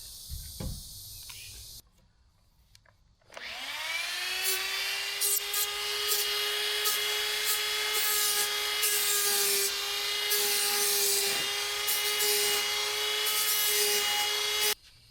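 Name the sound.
rotary tool with burr bit carving pink foam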